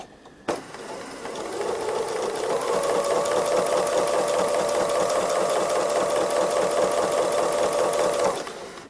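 A domestic sewing machine running steadily at speed for free motion embroidery of a robin design, a close, continuous hum and rapid needle chatter lasting several seconds before stopping abruptly.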